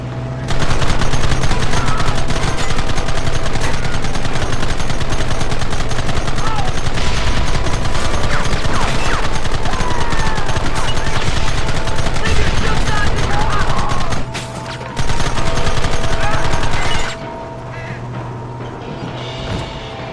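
Red Dead Redemption gunfire: dense, loud volleys of rapid shots and rattling bursts under continuous battle noise, with voices calling out, briefly cutting off before a quieter tail.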